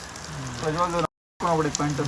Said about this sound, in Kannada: ಮಳೆ ಬರ್ತಾ ಇದೀಗ